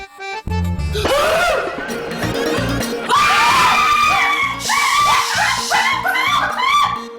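A woman screams loudly and at length, the shrill cries rising and breaking over a few seconds with a brief gap between outbursts.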